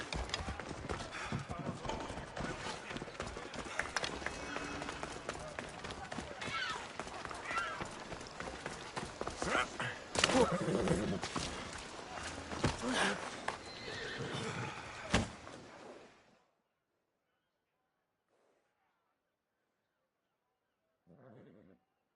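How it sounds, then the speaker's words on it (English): Horse hooves pound in a fast gallop with repeated loud neighs and whinnies in the video game Assassin's Creed Odyssey, busy and close, then the sound cuts off into near silence. "It's a very nice horse. A sturdy horse."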